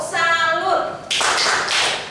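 During a workplace learning session, a group claps out a 'tepuk salut' cheer: a voice is heard first, then a burst of loud, close, rhythmic clapping from several people.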